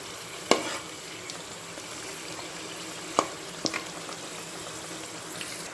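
Puris for pani puri fry in hot oil, a steady close sizzle and bubbling throughout, broken by a few sharp clinks of a utensil turning them.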